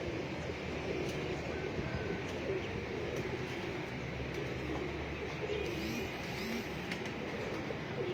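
Pigeons coo softly over a faint, steady background hum, with a voice speaking at low level throughout.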